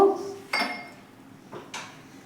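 Spoon scraping and knocking against a pot as pumpkin with added water is stirred for a Bengali kumror ghonto, a few short metallic clinks and scrapes spaced apart, close and moderately quiet.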